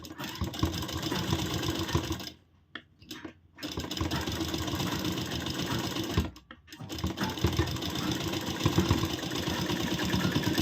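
Sewing machine stitching over the gathered edge of a blouse, its steady motor whirr running close and continuous, broken by two short pauses where the needle stops.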